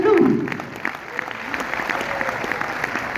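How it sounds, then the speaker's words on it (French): A cinema premiere audience at the UGC Ciné Cité Vélizy applauds for the film Chasse gardée, with a brief voice at the start and then steady, moderately close clapping that continues to the end. "je vais vous demander de refaire un tonnerre d'applaudissements s'il vous plaît"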